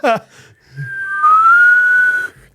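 A person whistles a single sustained tone that slides slightly upward and holds for about a second before cutting off, heard close and clear after a brief voice and some breathy attempts.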